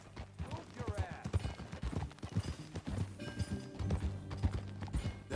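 Horses' hooves clip-clop at a steady gallop in Red Dead Redemption 2, close and rhythmic, with tack rattling and occasional snorts while voices talk over the ride.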